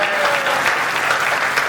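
Steady, dense applause from the audience at a Hindi comic poetry gathering, a continuous wash of clapping filling the hall with no pauses.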